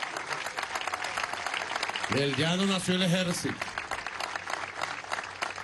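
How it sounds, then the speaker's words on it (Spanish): Crowd applause for Venezuela's Bolivarian National Armed Forces at an outdoor rally in Guárico, steady clapping throughout while someone speaks over it and a sung phrase rises in the middle. "Un aplauso a la Fuerza Armada Nacional Bolivariana."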